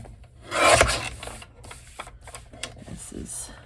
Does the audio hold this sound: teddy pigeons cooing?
no